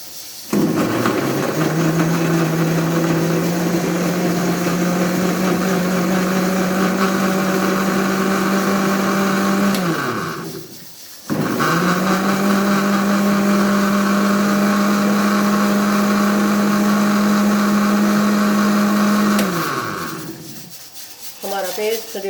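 A blender grinds tomatoes, green chilies and ginger into a paste for palak gosht, running in two loud sustained bursts of roughly ten and eight seconds with a steady whirring motor hum and a brief stop between them.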